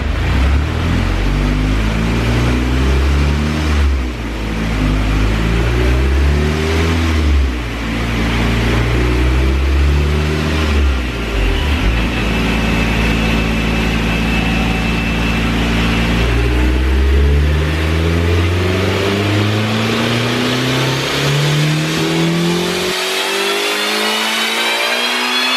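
A red Honda CRX on a test drive after new brake pads and rotors, its engine revving up and down through repeated accelerations and gear changes, loud and close throughout with no talking.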